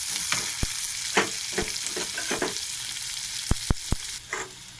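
Chopped onion, carrot, capsicum and green chilli sizzle steadily in hot oil in a pan, with a continuous frying hiss punctuated by several sharp clicks and scrapes of stirring, close and alone.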